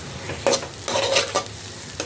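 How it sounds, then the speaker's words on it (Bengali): Stuffing for stuffed pointed gourd is stirred in hot oil in a wok, giving a soft sizzle broken by a few scraping bursts of the spatula, close and clear with no voices. "কড়াইতে তেল দিয়ে আর পুরটা ভাজবো।"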